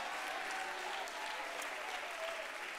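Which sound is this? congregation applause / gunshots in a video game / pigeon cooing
congregation applause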